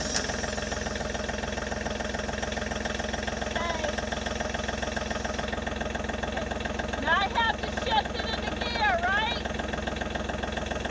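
A tractor engine runs at a steady, loud idle throughout, close by, while people talk over it.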